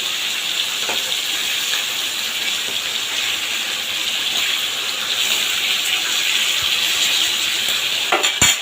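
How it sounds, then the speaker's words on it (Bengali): Hilsa fish sizzle in hot oil in a pan, a steady, close hiss that holds for several seconds, ending in a few light clatters as the pieces are turned. "এবার হালকা মাছগুলো উল্টে দেবো একদম দেখুন হালকা ভাজা হবে ইলিশ মাছ"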